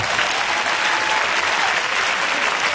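A church congregation at a Saturday ceremony applauds with dense, continuous clapping that stays loud and even throughout the short burst.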